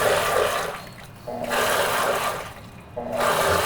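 A blender whirs in bursts while sugar and Instagel are mixed into water for layered gummies, the motor loud and steady, dropping briefly between runs and starting up again.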